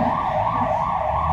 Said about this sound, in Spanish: tenemos la ambulancia de fondo